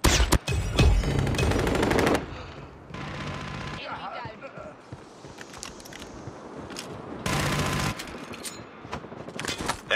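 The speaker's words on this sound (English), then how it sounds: "Sentry gun ready to deploy." Automated sentry gun firing in Call of Duty Mobile, loud bursts of rapid gunfire opening the clip and returning later, with quieter game sounds in between.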